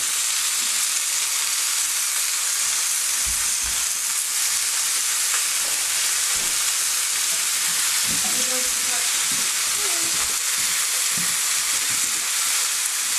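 Stuffed round steak of grass-fed beef frying in a pan over high heat, a loud steady sizzle and hiss throughout with a few clunks of the meat being turned.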